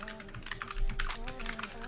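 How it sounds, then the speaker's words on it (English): Rapid clicking of a custom computer keyboard being typed on steadily, heard up close beneath a low steady hum with faint room tones. "We're just gonna let him keep typing on his really crazy keyboard"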